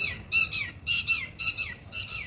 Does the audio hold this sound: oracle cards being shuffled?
no